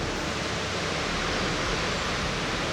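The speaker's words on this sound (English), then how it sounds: "I think this might be the most beautiful waterfall I've been to." A waterfall in Oaxaca, Mexico, rushes as a steady, full roar of falling water, close and unbroken throughout with no voices.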